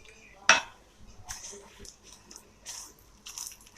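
Chana dal, toor dal and cumin seeds dry roast in a pan, with faint scraping and stirring, soft rattles of the grains and one sharp clink of a spoon against metal.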